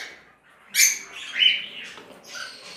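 A pair of pied whiteface birds chirps in a few short, bright calls that come close and clear, with no other sound around them.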